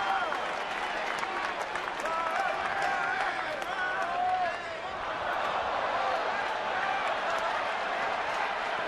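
Baseball stadium crowd at a Phillies–Giants game in San Francisco, a steady, dense roar of many voices with scattered applause and cheering that holds through the whole stretch, with a commentator's voice faintly audible within it.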